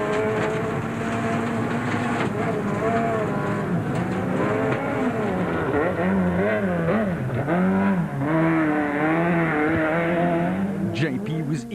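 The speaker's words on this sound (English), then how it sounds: "The Castrol Runex was right on the edge as Charles flung the car through the last few corners" Castrol Runex Volkswagen rally car driven hard through the last corners of a stage, its engine loud and close, revs rising and falling repeatedly through gear changes and lifts, with a voice talking over it.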